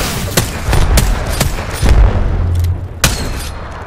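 Gunfire from Apex Legends, a handful of loud, sharp shots spaced irregularly over a few seconds with booming low-end tails, nearby and with no talk over them.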